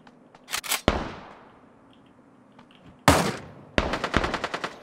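Gunfire in the Ring of Elysium video game: a couple of sharp single shots with long decaying echoes, then a rapid automatic burst of close, loud rounds near the end.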